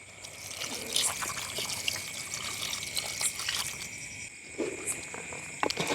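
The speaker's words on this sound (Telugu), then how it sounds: "కొద్దిగా నీళ్ళు పోసి ఇంకా బాగా ఉడికించుకుందాం" Water trickles and splashes steadily into a pot of cooking curry at a field campsite for several seconds, with a faint high hum and insect-like chirping in the background.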